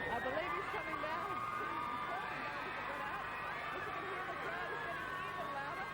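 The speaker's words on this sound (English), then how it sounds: "Well, we can certainly hear the crowd" A large crowd outdoors in Perth in 1996 waits for Michael Jackson, a constant roar of cheering, shouting and babble with high screams rising throughout, loud and unbroken.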